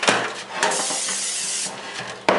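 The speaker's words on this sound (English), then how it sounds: "the recipe suggests that we prep pans with lots of spray" Several hissing bursts of cooking spray onto baking pans, a short blast, a long steady spritz, then another sharp burst at the end, close and loud with no talking.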